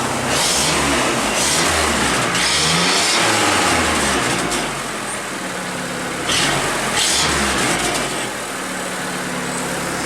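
A 1988 Dodge Dakota 2.2 liter engine with a loose muffler revs up loudly in two long surges, dropping back to a rough idle between them, with a throaty, rattly exhaust tone.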